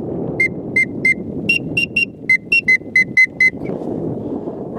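An acrylic teal duck whistle sounds a run of about fourteen quick pips, its pitch stepping up and down as a second tuning hole is opened and closed, close and clear over low outdoor background noise.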